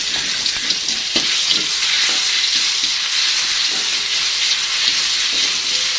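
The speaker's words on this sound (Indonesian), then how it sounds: "Nah, ini minyaknya udah panas, langsung aja saya tumis bumbunya." Seblak spice paste sautés in hot oil with a loud, steady sizzle, broken by scattered scrapes and clicks of stirring close by. No one speaks.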